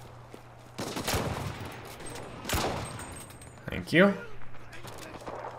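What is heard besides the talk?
gunfire in WWII video game Enlisted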